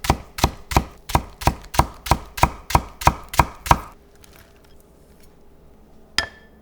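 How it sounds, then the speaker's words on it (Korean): A knife chops a green onion stalk finely on a cutting board, about a dozen even, crisp, loud strokes in quick rhythm, then quiet with one last faint knock. "대파줄기 약간은 십자로 칼집 넣고"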